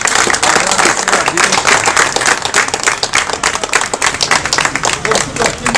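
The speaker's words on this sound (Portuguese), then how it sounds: "vamos dar uma salva de palmas." An audience applauds at a historical memorial talk about early Assemblies of God members in Ceará, Brazil: dense, steady clapping from many hands fills the room for several seconds, loud and close, with no speech over it.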